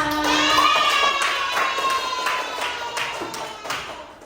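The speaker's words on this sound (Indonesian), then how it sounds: "Aplaus dulu untuk kita semua." A classroom audience claps together in a teacher-training session, a dense burst of hand clapping that starts loud and gradually thins and fades over a few seconds, with a brief tonal voice or whistle near the start.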